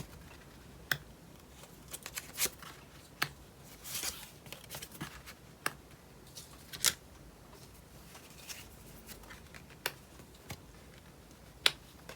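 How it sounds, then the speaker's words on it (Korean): Tarot cards being shuffled and drawn during a reading, scattered crisp snaps and flicks of card stock at irregular intervals over soft rustling, close and fairly quiet with no talking. "오늘은 카드를 조금 많이 뽑아볼게요"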